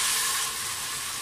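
Tomatoes and green chillies hit frying onion paste for an aloo and egg gravy, giving a loud, close, steady sizzling hiss that eases slightly after the first moment.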